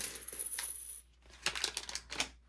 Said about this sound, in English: And we will move those dice out of the way.